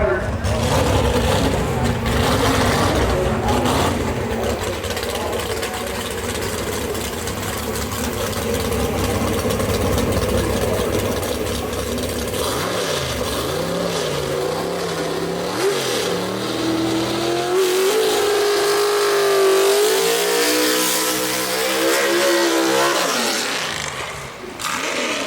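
A gasser drag race car at Brainerd Motorsports Park, a loud sustained engine roar that climbs through gears with rising revs, then fades as it pulls away, with an announcer talking over the engine.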